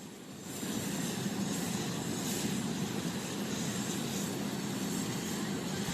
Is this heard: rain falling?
no